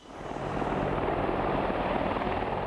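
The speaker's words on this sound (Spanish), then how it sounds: "Quizás el destructor de tanques más temible fuese el helicóptero Apache." Apache attack helicopter during the Desert Storm campaign, heard as a steady, loud rotor and turbine drone that rises within the first half second and then holds constant with no voices.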